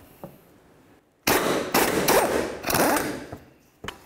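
Loosening a subframe mounting nut under a 2006-12 Ford Fusion: after a quiet start, loud rattling bursts of a power tool run for about two seconds, then a brief pause, a final clattering spell and a sharp closing clack.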